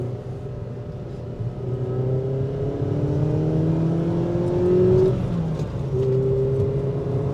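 A Ford Fiesta ST engine pulls hard from inside the moving car, its pitch climbing steadily through the gears with a brief dip at a shift before rising again, over constant road rumble.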